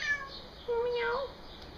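Kirby, a pet house cat, lets out a single short meow in a quiet indoor room at home, faint and fairly close, after a brief soft vocal sound.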